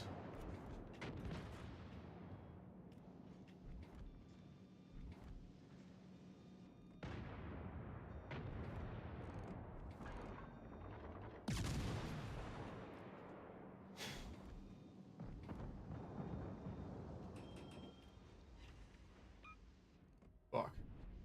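Gunfire in a free-to-play video game, rapid shots and booming blasts coming in repeated bursts over a noisy background, with one sharp loud crack near the end.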